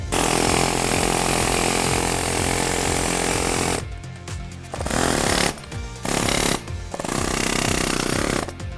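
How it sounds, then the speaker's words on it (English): Pneumatic chisel knocking the ceramic shell mold off a bronze statue casting: loud, rapid, continuous close-up hammering that stops briefly a few times before resuming. "This is called a pneumatic chisel."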